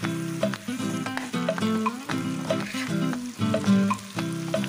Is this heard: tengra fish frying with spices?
yes